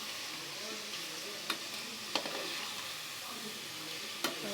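Boiled beef pieces being stirred into spicy masala frying in a pan for a beef gravy, with a steady sizzle and a few sharp scrapes of the spoon against the pan.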